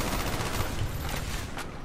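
A sentry gun firing in Black Ops during a bot survival match, a dense, steady stream of rapid shots with a muffled, distant quality and no speech over it.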